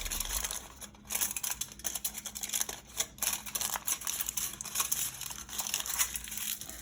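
Thick aluminium foil being folded and creased by hand, a steady run of close, crisp crinkling and crackling with no talk.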